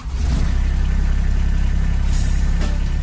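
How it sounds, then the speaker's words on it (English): A Kubota RTV diesel utility vehicle engine runs steadily at idle, a loud, close, low rumble with an even throb that holds without a break and with no voices. "That's the sound of a Kubota RTV utility vehicle."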